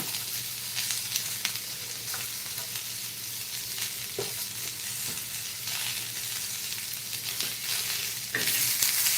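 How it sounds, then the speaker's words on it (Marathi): Onion frying in a pan for a homemade halwa fish curry: steady soft sizzling close by, with occasional stirring scrapes and clicks, no talk. "कांदा चांगला असा भाजून घेऊया"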